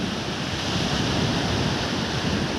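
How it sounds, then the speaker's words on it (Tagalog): Big ocean waves at high tide crash in a continuous, loud, close surf roar, with wind buffeting the microphone throughout. "Grabe kawag ang balod karon."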